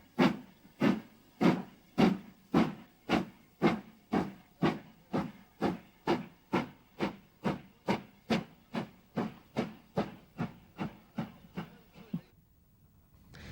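A steam locomotive backs into a siding, chuffing in a strong, even rhythm of about two dozen exhaust beats that gradually soften before stopping with a brief hiss.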